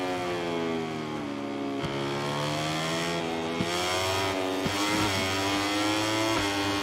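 A Moto3 racing motorcycle in MotoGP 22 on PS5 screams at high revs, its engine pitch repeatedly climbing, then dropping sharply through gear changes. The sound is loud, sustained and unbroken, with no talking.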